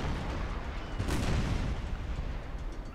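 Ship cannon fire in a Napoleon: Total War naval battle: a dense, continuous rumble of broadside booms and distant blasts, with a heavier burst near the middle of the barrage.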